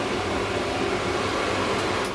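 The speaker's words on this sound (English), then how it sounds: "So you can see where the dryer creates a nice circle, we just work round that, brushing in all different directions." A pet blow dryer drying a dog's long coat makes a loud, steady, close-up whooshing roar of blown air with no break or speech.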